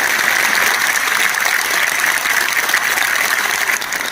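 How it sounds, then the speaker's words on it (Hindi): A full auditorium claps at a Hindi comedy poetry gathering, a loud, continuous roar of applause from many hands, even and sustained throughout. "एक बार तालियां बजाए"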